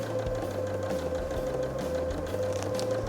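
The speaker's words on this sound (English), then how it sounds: "I'm going to sew." A sewing machine runs steadily, stitching a quarter-inch quilting seam in fabric, a continuous close, even mechanical hum with a rapid needle rhythm heard alone.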